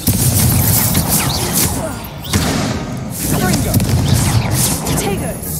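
Confringo spell blasts in Hogwarts Legacy, heavy booming explosions that thud and crash in repeated waves over a rumbling duel, with voices calling out during the fight.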